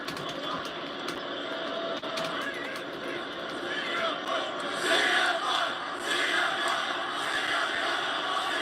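A large wrestling arena crowd at a WWE SmackDown event roars and cheers continuously, a dense wash of voices that swells louder midway, with commentary talk under it.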